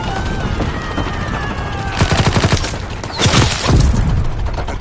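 Rapid gunfire crackles in bursts during a Call of Duty WW2 battle as an enemy tank advances, with loud machine-gun volleys and heavy booms layered over a constant battlefield roar.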